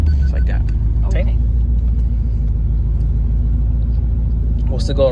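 A manual transmission car's engine is started and left running, giving a steady close low rumble that holds through the whole stretch, with a few brief bits of voice over it.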